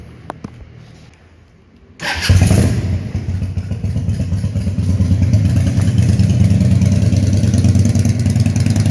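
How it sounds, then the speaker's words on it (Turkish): A motorcycle engine fitted with a new exhaust starts after a short quiet moment, then idles loudly with a steady, rough exhaust rumble close by. "Ha bu yeni sesi, motorun yeni sesi bu abi."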